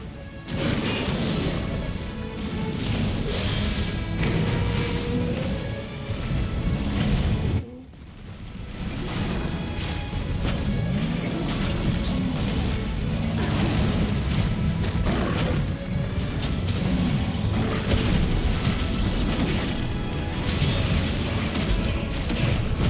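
Brimstone charge blowing up in Final Fantasy XVI, loud, dense crashing booms and rumbling impacts running nearly continuously, with one brief dip before the blasts resume at full force.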